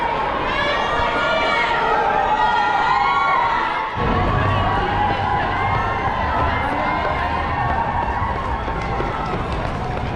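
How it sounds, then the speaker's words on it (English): Crowds cheer and shout near the finish of the Sydney Marathon, a dense, loud wash of voices, whoops and children's shouts that swells around a runner about 500 metres from the line, with continuous chatter beneath. "You can hear the crowds."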